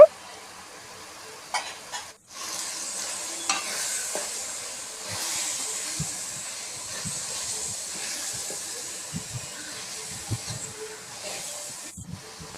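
Steady sizzling and frying hiss as chili powder is stirred into frying tomatoes in a pan for prawn curry, with occasional scraping stirs and soft clinks throughout.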